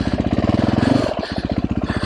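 A new Sherco SEF 450 single-cylinder motorcycle engine runs close by with a rapid, even pulsing thump, revving briefly then dropping back to a steady loping beat.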